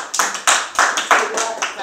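Five or six sharp claps ring out in a steady rhythm at a youth organization gathering, close and distinct, with voices speaking alongside.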